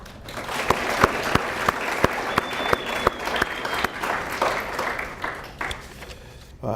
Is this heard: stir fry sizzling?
no